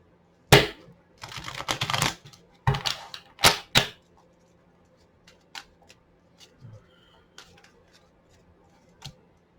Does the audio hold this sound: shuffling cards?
yes